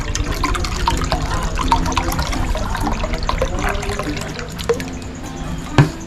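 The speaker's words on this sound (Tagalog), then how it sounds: "Buhos lang natin ng pineapple juice." Pineapple juice poured for a chicken hamonado marinade, a continuous liquid splashing and gurgling into a container, with a soft thump near the end.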